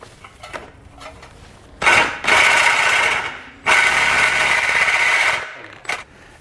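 A power tool cuts into the metal frame of a 2013 GMC Terrain while a Blue Ox base plate is fitted, loud close grinding in two long bursts with brief pauses between them.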